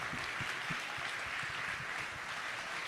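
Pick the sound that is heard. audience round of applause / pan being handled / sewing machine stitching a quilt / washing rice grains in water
audience round of applause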